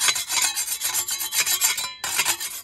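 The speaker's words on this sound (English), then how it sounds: "You can scrape that." Metal scraper rasping against ash-crusted inner walls of a Central Boiler Classic Edge 550 Titanium HD outdoor wood furnace, a close, steady run of rhythmic scraping strokes with a brief pause near the end.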